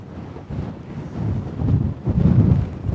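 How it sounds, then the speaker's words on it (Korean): Strong wind buffets the microphone on a golf course, a steady low roar that swells and gusts louder toward the end, with no voices over it. "오늘 바람 세네요, 진짜."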